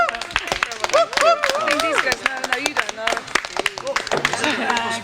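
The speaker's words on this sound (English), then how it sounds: "give yourselves a big round of applause" An audience at an exhibition launch claps, a scattered round of applause mixed with talking and voices throughout.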